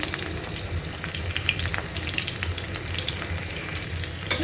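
Chopped onion and a piece of cinnamon stick fry in oil as the filling for potol dolma, giving a dense, close sizzle with fine crackles that runs steadily throughout without any talking.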